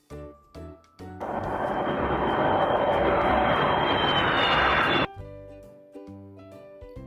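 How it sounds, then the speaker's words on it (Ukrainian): A fixed-wing airplane flies past with a loud, steady engine roar that lasts about four seconds and then cuts off. Light music plays before and after it. "До цього виду відноситься літак."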